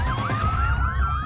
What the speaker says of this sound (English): A siren sounds.